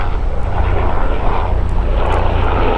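A life-flight helicopter passes overhead outdoors beside water, a loud, steady engine and rotor roar holding through the whole stretch with no talking.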